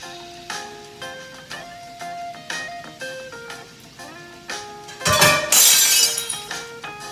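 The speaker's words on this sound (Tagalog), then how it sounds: "Basag yung isang ano, yung pinggan." A dinner plate set out beside burger steaks being cooked cracks from the heat, with a sudden loud shattering burst of ceramic near the end over a steady tonal background.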